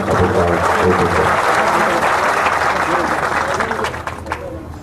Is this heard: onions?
no